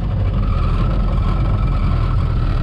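A 1949 Willys CJ-3A's engine running after starting, a steady loud low rumble with a constant, even drone throughout and no voices.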